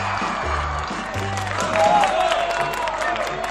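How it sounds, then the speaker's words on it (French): A crowd of children claps at a clown show, a dense, steady patter of applause held at an even level throughout, with voices mixed underneath. "Applaudissez s'il vous plaît."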